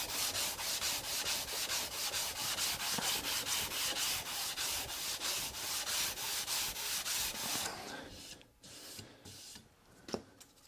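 Hand sanding a wooden console table with 180 grit paper on the cork side of a block, a rapid rhythmic back-and-forth rasp for about eight seconds, then stopping into quiet with a few soft knocks.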